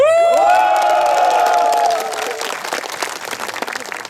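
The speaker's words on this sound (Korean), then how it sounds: "여러분들 함성과 박수 한번 해주세요" A crowd at an elementary school sports day opening ceremony cheers and applauds, loud shouts and whoops swelling first, then settling into sustained clapping.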